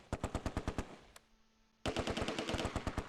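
Close Combat II game gunfire: rapid machine-gun bursts firing in quick regular rhythm, a sudden brief lull with a faint hum, then another sustained, louder volley of automatic fire.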